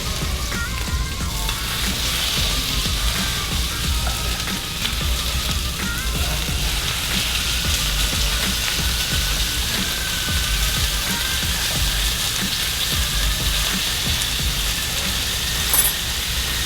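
Pork chops frying in a pan, giving a steady, dense sizzle and crackle that holds evenly throughout with no talking.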